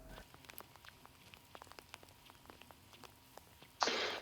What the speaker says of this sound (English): the rain came in as we were heading in towards Prescott itself